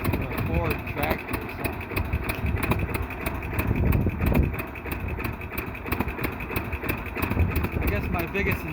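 A propane-powered 1948 John Deere B tractor with home-fabricated pipe intake and exhaust runs at a steady idle, its rapid even putter continuing close and loud beneath someone talking throughout.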